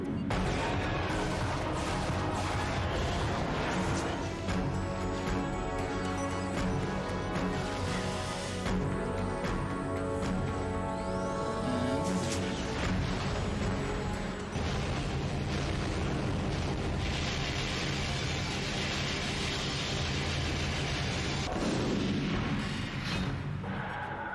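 Booming explosions and crashing impacts from a video game trailer shown at Nintendo's E3 2004 press conference, loud and dense throughout with layered music-like tones and repeated heavy hits.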